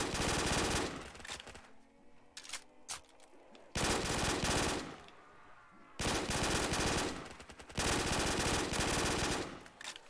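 Rapid automatic gunfire from Black Ops 3 Zombies bursts loud and dense in several long volleys, broken by brief quieter gaps.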